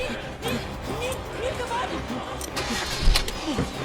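A jeep engine starts and runs in a horror story, a muffled mechanical turnover with rumble beneath busy background noise and scattered thumps, while voices urge haste.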